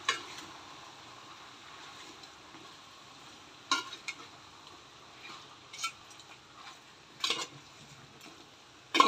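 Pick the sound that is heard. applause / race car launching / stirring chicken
stirring chicken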